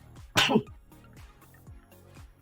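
A single sharp, loud sneeze bursts out near the start, followed by quieter background sounds and faint voices.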